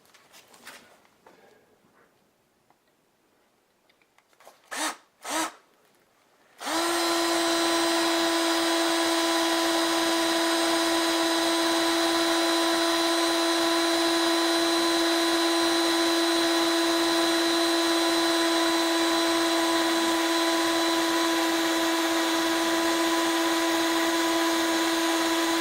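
A power drill fitted with an aircraft-length bit starts up after a few handling knocks and then bores a pilot hole, a loud steady high whine that runs unbroken for about twenty seconds, no talking.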